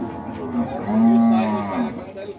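A dairy cow moos loudly and close by at a dairy cattle fair in Dois Riachos, Alagoas, Brazil, giving one long drawn-out low call with no talk over it.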